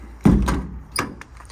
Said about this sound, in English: All the drawers slide and latch as they should.